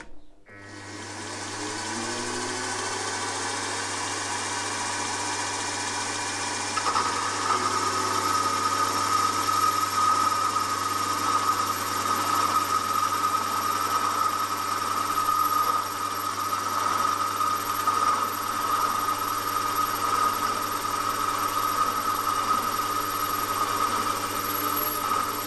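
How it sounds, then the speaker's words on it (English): A milling machine spins at just over 600 RPM while cutting the housing for a gear hobbing attachment, a continuous close whine with layered tonal harmonics that holds steady throughout, with no talking. "I've speeded the mill up to just over 600 RPM and I'm getting a better finish"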